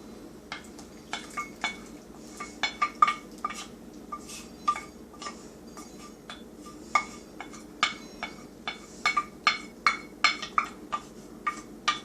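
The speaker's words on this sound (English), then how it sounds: "Just stir it and see if there's any of those big brown clumps" A spoon stirring roux for dumpling soup in a pot, scattered metallic clinks and scrapes against the pot at an uneven pace, fairly faint over a soft background hum.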